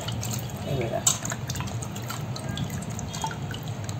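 Crab pieces being rinsed in water for a Malvani crab curry: soft dripping and splashing close by, with one brief louder splash, over a low background hum.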